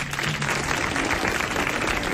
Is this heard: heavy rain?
no